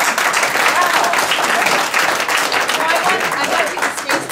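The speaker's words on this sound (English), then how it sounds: "Is the applause because we left?" A room full of people at a land-use gathering breaks into steady, loud applause, dense clapping carried evenly throughout with voices murmuring underneath.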